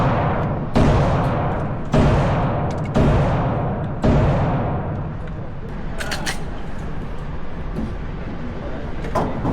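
Gunshots ring out at an outdoor gun range, four loud reports spaced about a second apart, each with a long echoing decay, followed by quieter background noise and faint clinks.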